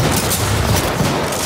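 Rapid gunfire in Titanfall 2, dense and loud throughout with a continuous rattling barrage and no pauses.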